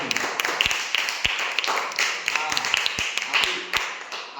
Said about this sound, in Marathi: एकदा जोरदार टाळ्या वाजवा तुमच्यासाठी.